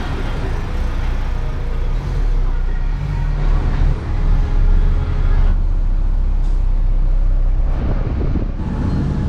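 Engine of a 2010 Volkswagen Passat with white-smoke trouble running close by, a steady loud low rumble with some clatter and shifts in tone.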